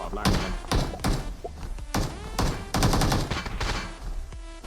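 Loud, close bursts of gunfire crack in a PUBG Mobile match with mechs, coming in rapid clusters with short gaps between them, with a voice audible faintly among the shots.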